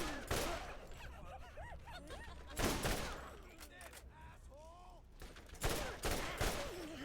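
Gunfire from a gun in the video game Borderlands, with several sharp loud shots and bursts spread across the scene, mixed with game sounds and a voice talking between shots.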